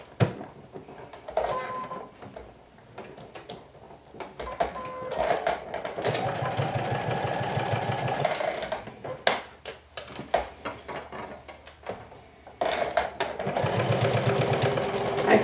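A sewing machine stitches a 1/2 inch seam along a lumberjack shirt's collar in uneven runs, stopping and starting amid clicks and fabric shuffling, with a motor hum rising in the later stretches.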